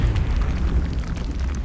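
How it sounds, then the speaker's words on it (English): A grenade detonates in the turn-based strategy game XCOM: Long War, giving a dense, loud, rumbling blast whose low boom holds steady for its whole length, with no voices over it. "Here's another grenade"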